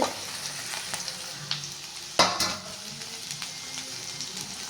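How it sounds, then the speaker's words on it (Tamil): Capsicum, carrot and beans stir-frying for restaurant-style fried rice, a close hiss of frying with a few sharp scrapes and one louder clatter of the spatula partway through. "குடமிளகா, கேரட், பீன்ஸ் போட்டுட்டேன். நல்லா வதக்குங்க."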